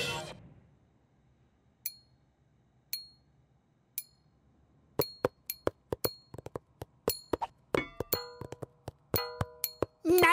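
Light, glassy tapping clinks: a few sparse taps at first, then a quicker, busier flurry of bright ticks close by.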